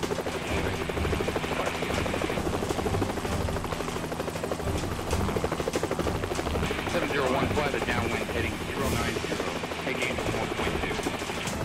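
Helicopter in the Helicopter Simulator search-and-rescue game, a steady rotor thrum and engine drone running continuously and loudly throughout, with a rhythmic low chop under it.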